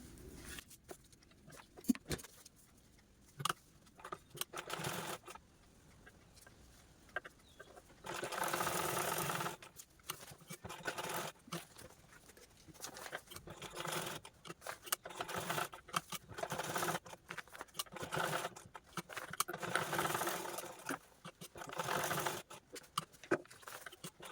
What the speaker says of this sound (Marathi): तर चला आता आपण हे दोनही बेल्ट स्टिच करून घेऊया